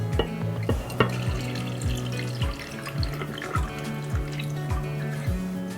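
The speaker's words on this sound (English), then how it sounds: "you just want to come across and pour that brine all the way in" Pickling brine poured into a jar of bread and butter or sweet pickles in a home kitchen, a steady close liquid pour and splash with a few gurgles, running continuously without talk.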